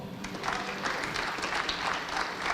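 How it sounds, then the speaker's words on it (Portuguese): A church congregation at an evening worship service breaks into applause, a full crowd clapping in dense overlapping waves for a few seconds, with no voices over it. "Aplauda ao Senhor."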